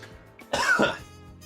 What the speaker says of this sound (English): I'm so mad that the coughing came back